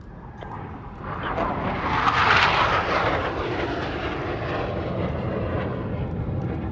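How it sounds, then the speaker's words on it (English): Blue Angels jets race toward the flight line at an air show in Columbus, Ohio, a roar swelling to a loud peak as they pass, then a sustained rumble trailing off. "Blue Angels 5 and 6 are approaching the flight line at 400 miles per hour."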